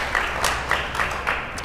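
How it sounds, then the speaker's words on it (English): Scattered applause after a first-time live performance of a piece, a few irregular claps sounding faint and thin over a steady background hiss. "I think that's worth an applause"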